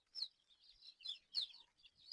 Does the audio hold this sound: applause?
no